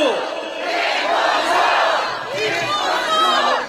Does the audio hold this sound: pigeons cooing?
no